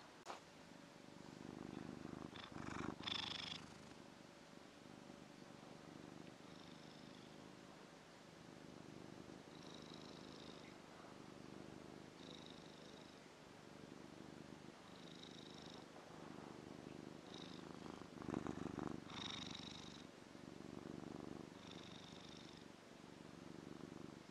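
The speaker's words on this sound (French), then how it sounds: "Soyons dans ce ronronnement." A cat purrs steadily and close for the whole stretch, a low rhythmic rumble that rises and falls with each breath, heard alone with faint higher chirps mixed in.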